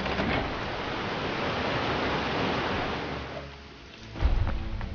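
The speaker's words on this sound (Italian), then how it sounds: "Sta piovendo, piove troppo" Rain hisses steadily across the scene in the video game Lego Jurassic World on Xbox 360, then a deep thunder rumble swells near the end.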